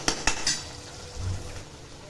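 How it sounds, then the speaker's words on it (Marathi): A spoon scrapes and clinks against a pan a few times in quick succession, then quieter stirring of ground masala for chicken frying until the oil separates, with a faint low sizzle. "तेल सुटेपर्यंत मसाला चांगला परतायचा आहे."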